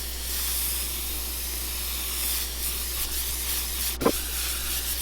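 An airbrush sprays a fine mist of white paint onto a fishing lure bait, a steady close hiss throughout with a brief knock near the end.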